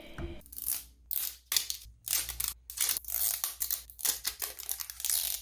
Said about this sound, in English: I have to open each of the packaging, and I thought this would be a great moment to have a nice ASMR thing.